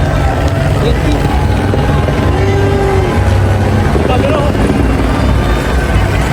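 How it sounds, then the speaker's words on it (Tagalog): A helicopter arrives over a crowded street gathering in EDSA, its steady rotor and engine roar filling the scene continuously at close to moderate distance, with crowd noise and voices mixed underneath. "May dumating, dalawang naka-helicopter."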